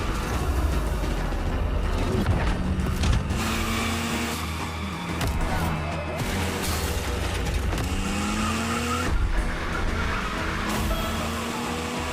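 A Mitsubishi Evo 9 in the racing game The Crew Motorfest revs hard with a loud, continuous engine drone, rising and falling gear changes and repeated tire squeals and skids, no talking.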